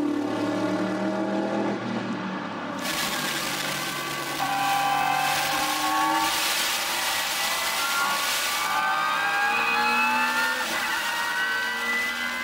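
BMW and Zakspeed Viper race cars duel at the 2005 Nürburgring 24-hour race, engines loud and close, revving and shifting with rising pitch as they pass and a sustained roar that swells midway.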